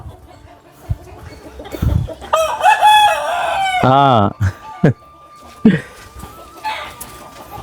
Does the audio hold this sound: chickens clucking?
yes